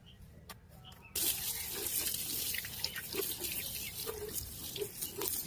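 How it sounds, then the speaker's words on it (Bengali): A makeup beauty blender sponge is washed in soapy water. After a quiet start, water suddenly splashes and runs, with squelching and dripping continuing close by to the end. "সার্ফের জলে ডুবাবো, কেমন পরিষ্কার হয়ে গেল"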